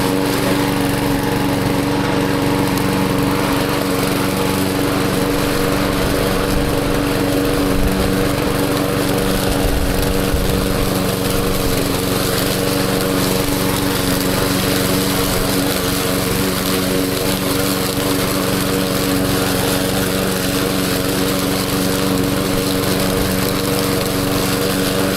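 A lawn mower engine drones loud and steady while cutting wet, waterlogged grass with standing water after heavy rain, a constant close roar with no pauses and no talking.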